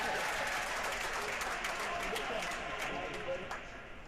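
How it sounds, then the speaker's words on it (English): Steady, close applause from spectators at a men's college tennis match, Baylor against San Diego, runs throughout and fades slightly at the end. "and the clap from Danilov"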